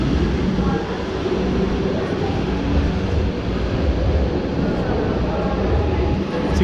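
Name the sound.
subway train in a Fukuoka metro station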